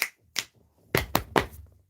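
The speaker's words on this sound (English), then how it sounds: "clapping your hand." Five sharp hand claps ring out alone, two spaced apart and then three in quicker succession, each crisp and close.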